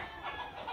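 Fighting roosters at a gamecock farm cluck and murmur in a short, steady run of close, moderately loud calls with no one speaking.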